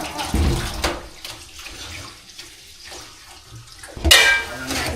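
Tap water runs and splashes as food is rinsed in a home kitchen while making Jaffna-style dum biryani, with bursts of gushing at the start and end and quieter handling in between.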